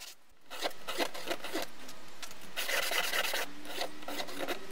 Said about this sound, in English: We then have to sand each of the sections, as the diamond wheel leaves pretty sharp edges.